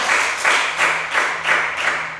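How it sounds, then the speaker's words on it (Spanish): A church congregation applauds during a Spanish-language sermon, a dense and loud wash of many hands clapping that swells in a steady rhythmic pulse about every third of a second. No voices are heard. "Yo le digo, Dios, un aplauso."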